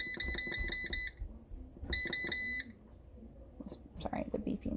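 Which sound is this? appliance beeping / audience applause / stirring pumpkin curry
appliance beeping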